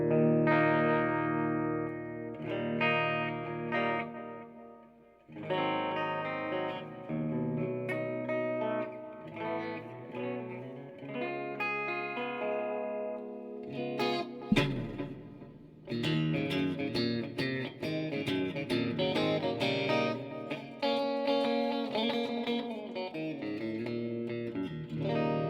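A Dinky electric guitar plays clean, ringing tones in chords and single notes, with shimmering effects and echo, loud and alone, with a brief pause partway through.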